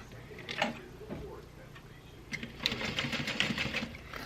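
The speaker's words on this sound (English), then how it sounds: "Make sure you back stitch on this part." A sewing machine back stitching a milk box bag gives a brief ticking start and then a short, fast run of stitching, with faint speech before it.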